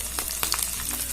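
Mustard seeds, dried red chilies and green chilies fry in hot oil as tempering for tamarind rice, a steady close sizzle dotted with small crackling pops.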